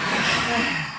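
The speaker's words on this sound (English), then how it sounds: "Exhale sharp, hard." A sharp, forceful exhale during a guided breathing exercise, a steady breathy rush of air lasting about a second, close and fairly loud with no talking.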